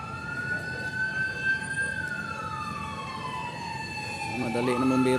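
A fire truck's wailing siren sweeps slowly up and down over steady traffic rumble, growing louder and more layered toward the end as the vehicle approaches.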